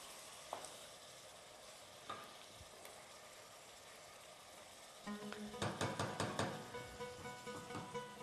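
Chicken sizzling in a frying pan while being stirred, faint steady frying with a few soft clinks, then a louder burst of rhythmic scraping and sizzling in the second half.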